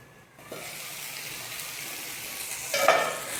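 Dried red chillies and ginger cook over medium-low heat in a pan, a soft steady sizzle with gentle stirring scrapes that swell briefly louder toward the end.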